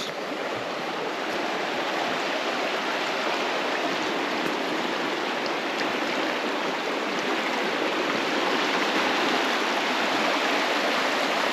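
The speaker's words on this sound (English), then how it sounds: "is a lovely river." A river flows steadily just down a slope from a tent at a riverside campsite, giving a constant, loud rushing wash of water that never lets up and carries no voices.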